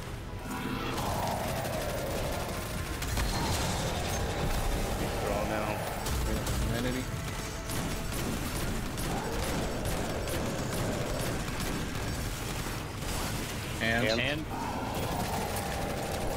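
Gunfire in the Destiny 2 Crown of Sorrow raid, with a dense, continuous clatter of shots and impacts under busy game effects and team voices.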